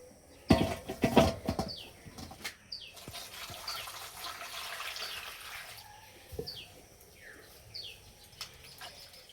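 Ripe mangoes rinsed under running water: splashing bursts of water near the start, then softer trickling and handling noises, with birds chirping faintly in the background of an outdoor setting.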